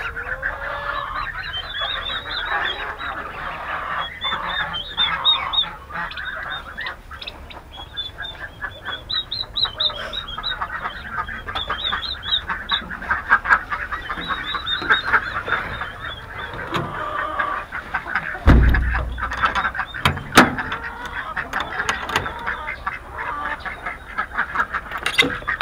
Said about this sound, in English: Look at these cute little ducklings.